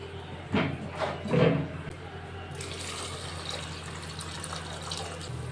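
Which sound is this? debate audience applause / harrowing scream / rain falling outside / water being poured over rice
water being poured over rice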